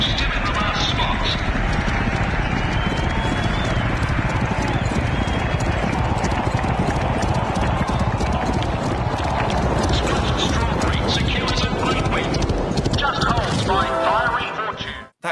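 Racehorses galloping in the Rival Stars Horse Racing VR game, a loud continuous drumming of hooves pounding down the course, close and dense, with a voice talking over it before the sound cuts off at the end.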